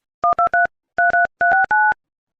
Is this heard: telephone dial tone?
yes